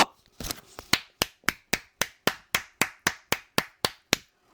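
Sharp, evenly spaced hand claps, about fifteen in a steady rhythmic beat, close and distinct, following a brief ragged start.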